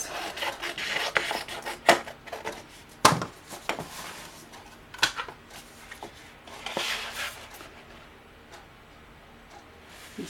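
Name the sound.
scissors cutting paper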